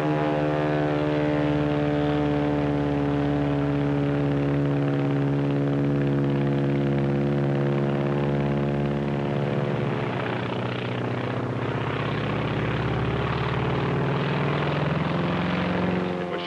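A Zero fighter plane flies by with its propeller engine droning steadily, a loud harmonic hum that shifts in pitch partway through as it passes, with no talking.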